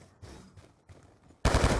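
M27 rifle fire in a multiplayer shooter video game: faint distant shots are followed by a sudden loud, close burst of rapid automatic fire at the very end.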